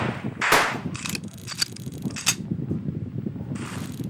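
Gunfire in a Roblox game: a few sharp, crisp shots spaced irregularly over a low, busy background, with short mechanical clicks between them and no talking.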